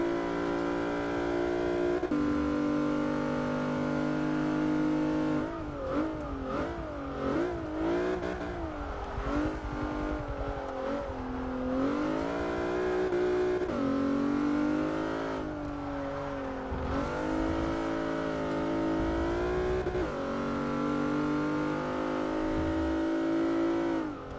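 A Plymouth Prowler lapping a circuit in Forza 6, its engine note droning steadily then swooping up and down through gear changes and revving, loud and continuous with no voices over it.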